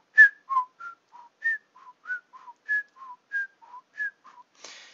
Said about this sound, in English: It's just making like a whistle.